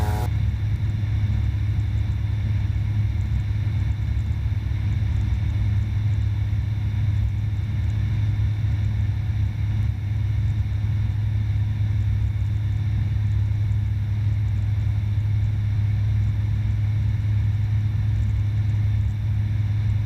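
A steady, droning engine hum fills the cabin of a small light aircraft in flight near Edenvale Aerodrome, loud and unchanging throughout with a constant low rumble.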